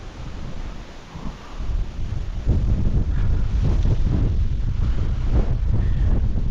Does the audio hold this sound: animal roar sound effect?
no